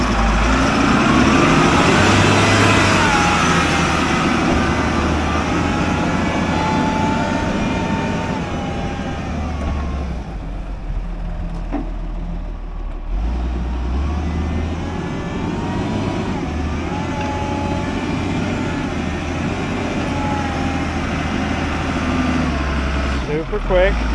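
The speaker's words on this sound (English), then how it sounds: "we're going to get this forklift back here super quick" A forklift engine runs with a loud, steady diesel drone as it is driven back toward a Cat D7F bulldozer, the pitch rising and falling with throttle, with someone talking over it throughout.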